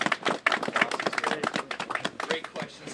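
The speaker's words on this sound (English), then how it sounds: "Let's give him a round of applause." An audience at a field house demolition ceremony applauds a student trustee, a small group clapping in brisk, uneven bursts at close range, with no talk.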